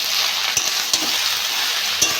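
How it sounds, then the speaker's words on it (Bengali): Spices with potato, okra and small mourola fish are stir-fried in a hot pan, giving a steady loud sizzle broken by three sharp scrapes of a spatula against the pan. "মশলা দিয়ে ভালো করে কষে নেবো।"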